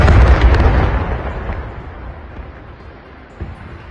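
An Israeli rocket and missile strike in news footage erupts as a loud, close explosion that rumbles and decays over several seconds, with a smaller pop near the end.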